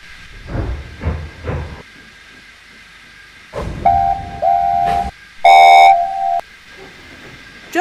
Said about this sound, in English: Just then, they heard a familiar whistle.